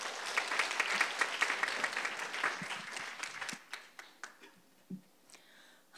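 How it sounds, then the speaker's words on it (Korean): A church congregation at an evening deaconess devotion service claps in welcome: dense applause for a few seconds, then it thins to scattered single claps and fades out. "나오실 때 박수로 우리 환영해 주십시오."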